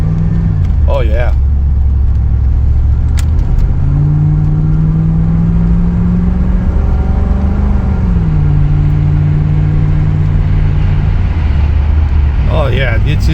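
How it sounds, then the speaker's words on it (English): Loud, steady rushing wind and road roar inside a moving car, with a low engine drone rising and falling, constant throughout. "you hear the wind noise? That's the problem with this car."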